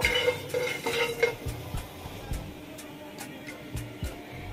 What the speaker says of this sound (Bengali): কালিজিরাগুলো একটু নেড়েচেড়ে ভেজে নিচ্ছি।